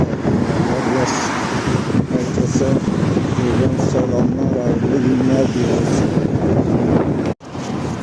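Strong stormy wind roars and buffets the microphone continuously in rainy mountains while someone speaks over the rushing gusts.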